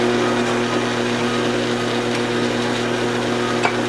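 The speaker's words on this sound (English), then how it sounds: "And again, we're just drilling here" A drill press bores holes through custom knife scales for an Emerson Commander, a steady motor whine with constant hum running evenly throughout, close and fairly loud with no talking.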